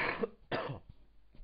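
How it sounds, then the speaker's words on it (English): A man coughs twice in quick succession, close and fairly quiet, followed by a faint throat sound. "I hope my coughing didn't disturb you too much"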